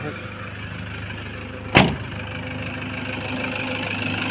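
A 2002 Toyota Tiger D4D diesel pickup truck engine idles with a steady low rumble, and a single sharp clunk sounds partway through.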